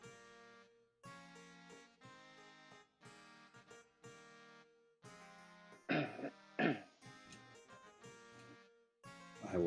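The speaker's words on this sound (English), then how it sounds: "Oh, I heard a coughing." A couple of short, sharp coughs burst out near the middle and again at the end, standing above a quieter stretch of voice-like sound.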